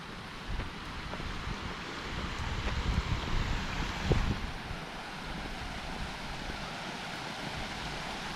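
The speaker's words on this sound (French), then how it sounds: "Ah une petite cascade." Small waterfall along a mountain hiking trail on the way to Pic du Canigou via the Cortalets, a steady broadband rush of falling water heard continuously, with brief louder swells near the start and middle.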